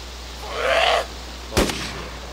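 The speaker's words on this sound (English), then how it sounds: "I heard a gun." A distant gunshot in the video game DayZ rings out as a single sharp crack in a quiet scene. A brief, softer sound comes just before it.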